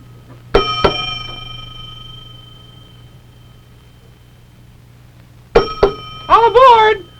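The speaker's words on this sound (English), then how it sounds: "I wonder where my little bell is. I usually call meetings here." A small hand bell rung to call a meeting sounds two sharp, ringing dings early on with a long fading tail, then two more strikes later, followed by a brief burst of a voice.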